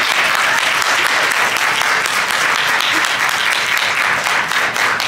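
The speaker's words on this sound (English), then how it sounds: "So one big round of applause for her." An audience at a college event gives a steady, dense round of applause, sustained and fairly close throughout with no pauses.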